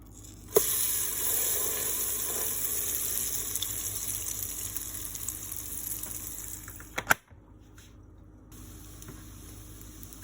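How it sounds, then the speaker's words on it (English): A batter-dipped bread slice fries in a pot of hot oil, giving a steady loud sizzle and crackle that starts abruptly and carries on for several seconds before a clatter and sudden drop to quiet. "the dipped bread slice into the pot of heated oil"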